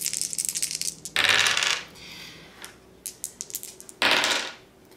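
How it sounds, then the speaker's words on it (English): Dice rolled onto a table during a Castles of Burgundy board game, loud clattering bursts of tumbling and bouncing with quick small taps as they settle, repeated several times. "each person is going to roll their"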